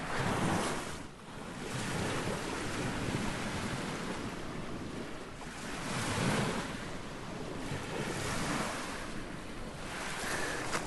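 Waves wash onto a rocky Lake Superior beach in Michigan's Eastern Upper Peninsula, with the surf swelling and receding in slow surges, close and loud, alongside wind buffeting the microphone.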